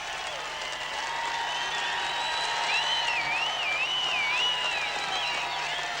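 Noisy crowd at Olympic men's trap shooting, sustained cheering, applause and whistling swelling into a loud continuous roar, with a shrill warbling whistle rising above the din.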